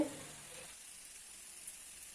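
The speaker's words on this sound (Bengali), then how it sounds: "এবার নেড়ে চেড়ে আর একটু রান্না করে নেব" Bottle gourd with ginger and cumin paste sizzling and frying in a pan, a brief stirring scrape at the start, then a steady soft hiss.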